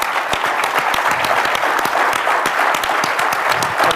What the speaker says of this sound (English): Everybody, a cheer for this man.